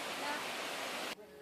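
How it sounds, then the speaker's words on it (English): Dense, continuous rushing of a jungle waterfall on a hike in Thailand, a broad steady roar that drops away abruptly near the end. "It's got these pretty, pretty waterfalls."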